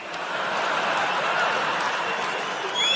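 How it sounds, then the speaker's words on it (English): A comedy club audience applauds steadily for a few seconds, a dense wash of clapping with scattered chuckles and whoops. "Ladies, you shouldn't be applauding that."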